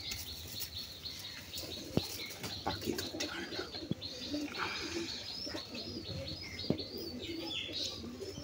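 Hill myna birds call and chirp with lively, restless energy, giving bright repeated whistles and tweets alongside occasional wing flaps and handling noises close by.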